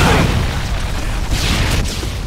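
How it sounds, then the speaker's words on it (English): A Predator missile explodes in Modern Warfare 2 during a Domination match on the Scrapyard map, giving a loud, sustained rumbling blast that fills the whole moment with heavy low-end roar and crackling debris. "Friendly Predator missile inbound."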